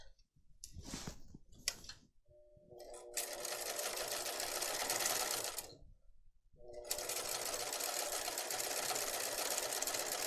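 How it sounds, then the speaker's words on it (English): A sewing machine fitted with a Teflon foot stitches vinyl fabric in two long, steady, loud whirring runs with a short pause between them. Faint clicks and handling sounds come first. "It makes it so that you can sew the vinyl without sticking."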